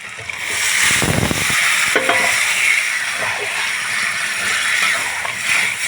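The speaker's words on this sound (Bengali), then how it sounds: "এখন আমি দিয়ে দেবো সিদ্ধ করে রাখা বুট।" Boiled peas tipped with their cooking water into frying masala for a vegetarian ghugni, giving a loud steady sizzle with wet scraping and clattering stirring strokes close by, heard alone.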